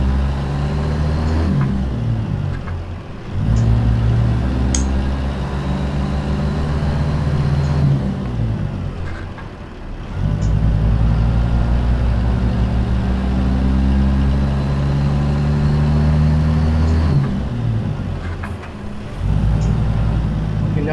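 A heavy truck's diesel engine in American Truck Simulator revs up and drops repeatedly as gears are shifted, with loud rising and falling tones and brief dips between shifts; no talking.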